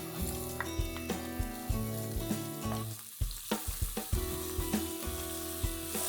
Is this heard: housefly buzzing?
no